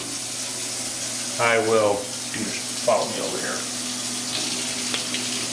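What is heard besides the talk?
warm water running from tap for baguette dough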